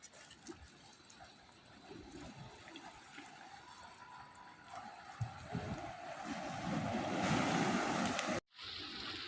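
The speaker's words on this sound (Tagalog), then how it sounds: "Ang alon." Ocean waves roll in at Diguisit beach in Baler, Aurora, a steady close rush of surf that swells louder toward the end, with a brief cut just before it finishes.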